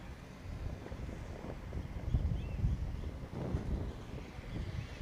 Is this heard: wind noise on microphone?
yes